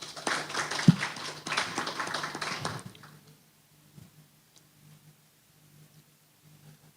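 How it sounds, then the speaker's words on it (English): Applause from a parents' symposium audience in Jamaica, a few seconds of broad clapping that cuts off sharply and leaves near silence. "So give yourselves a round of applause"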